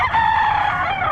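A gamefowl rooster crows once, loud and close, a drawn-out strained call lasting about a second with no talk over it.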